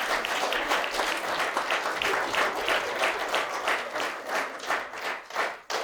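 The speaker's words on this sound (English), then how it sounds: "now give me a round of applause" An audience breaks into loud, sustained applause, dense clapping from many hands continuing without a break.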